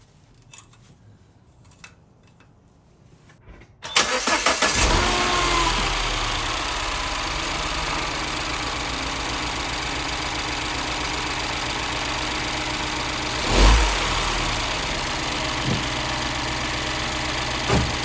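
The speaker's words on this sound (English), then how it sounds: "So engine's running fine." Mini Cooper S engine cranks and catches after a few quiet seconds, then settles into a steady, close idle with one brief louder blip partway through.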